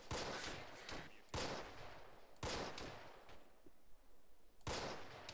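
Rifles fire in a World War II style skirmish, with four loud, sharp bursts of shots spaced about a second apart, each ringing out briefly before the next, while men exchange short words quietly between volleys.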